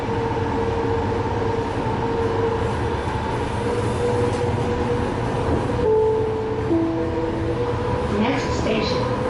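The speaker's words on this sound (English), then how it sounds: "I'm just riding the Green Line Trax train to the Salt Lake International Airport" Inside a Green Line TRAX light rail train in Salt Lake City heading to the airport, a continuous loud rumble of wheels on track carries occasional squealing tones and faint clicks.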